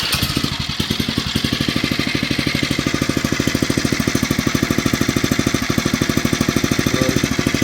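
A Phatmoto Rover motorized bike's small engine runs steadily after starting, a loud, close, fast chugging putter with an even rapid pulse and no voices.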